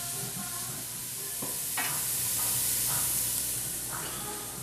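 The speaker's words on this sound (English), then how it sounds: "I'm just going to go ahead and add the celery to the onions. I'm going to let this cook for about 3 minutes" Onions and celery sizzling in a cooking pot for corn chowder, a dense steady hiss with a few soft stirring scrapes and clinks, close and continuous without talk.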